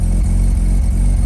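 The rotary engine of a Mazda RX-8 holds steady around 1500 RPM, giving a loud, close, continuous low rumble with a slightly uneven pulse and no voices.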